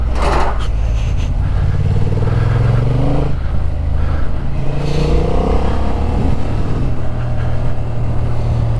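A 2025 Honda Hornet 750 motorcycle ridden hard gives a loud, close engine roar that rises and falls through gear changes, with heavy wind noise throughout.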